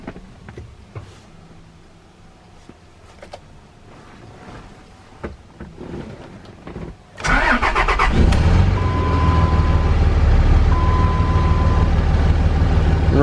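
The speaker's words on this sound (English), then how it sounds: "put the key in the ignition, we'll check everything out" A 3rd-generation Cummins diesel pickup truck sits quiet with a few light clicks before its engine cranks briefly and fires, then settles into a loud, steady, rumbling idle close by.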